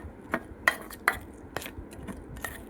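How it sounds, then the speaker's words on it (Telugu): Face pack powder being stirred into a paste, with a utensil clinking and scraping against the bowl in about half a dozen irregular, close taps over a quiet background. "మొత్తం ఇలా కలుపుకోండి"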